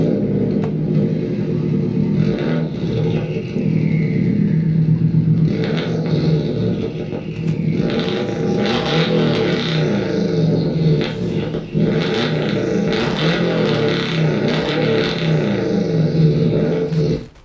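A flat-four boxer engine of the kind used in the Subaru Impreza and Porsche Boxster roars and revs for a sustained stretch, a loud, rough, throbbing rumble with rising and falling pitch and some clatter, heard without any talk.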